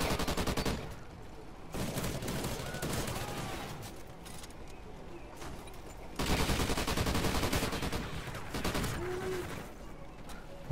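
Sustained automatic gunfire in a shooter video game, heavy rapid bursts repeating in long stretches broken by brief lulls, loud and close, with no speech over the shooting.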